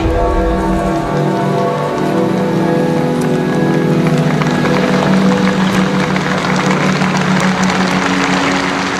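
Scattered applause from the crowd along the Pope's funeral procession, heard as a continuous hiss of distant clapping that is steady and fairly loud throughout, with a low rumble underneath.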